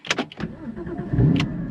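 A Porsche GT3 being started: a few quick clicking and whirring starter bursts, then the engine catching into a firm, close, rumbling idle that holds steady to the end.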